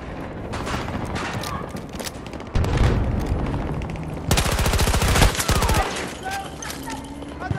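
Dense automatic gunfire and bursts of machine-gun fire in a Battlefield 2042 Conquest battle at Arica Harbor, loud and continuous with heavier volleys and booms mixed in, while game radio voices call out under the shooting.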